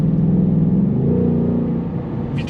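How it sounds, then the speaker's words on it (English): A 2021 Ford Mustang Mach 1 engine revs loudly up close, holding a deep throbbing drone that shifts in pitch as the car drops down to 4th gear, then eases off near the end. "It doesn't try to toggle down through the gears, it just jumps all the way down to 4th gear"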